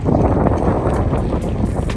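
Strong wind buffeting the microphone while riding a gravel bike on a road ride in Perlis, a loud, constant roaring rumble with gusty bursts of hiss and no talking.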